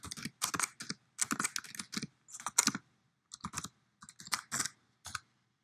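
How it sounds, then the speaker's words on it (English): Someone typing a school email password on a computer keyboard: bursts of quick, close key clicks in several short runs separated by brief pauses, with no talking. "Type in your school email password."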